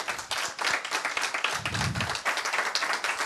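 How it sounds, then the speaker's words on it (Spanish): Applause from the audience at a Spanish-language book launch on Bitcoin, a dense patter of hand claps that continues without a break for the whole stretch, with one heavier thump near the middle. "Un aplauso, por favor, para José."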